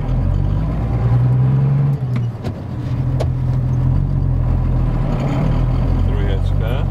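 A Case International 956XL tractor drives in second gear, its engine droning steadily and close, with a brief dip midway, while people talk over it.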